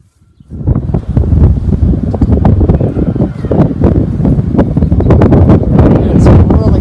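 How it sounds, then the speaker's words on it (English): Strong wind buffets a garden and the microphone, rising abruptly after a brief quiet start into a loud, gusty rumble with rustling, while a voice is faintly audible underneath. "It's really windy."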